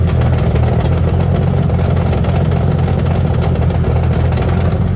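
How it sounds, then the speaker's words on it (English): A car engine idles steadily and loudly up close, a constant low drone with a suspected worn throwout bearing, though no distinct bearing whine stands out. "I think it's my throwout bearing, but I don't know if you can hear that."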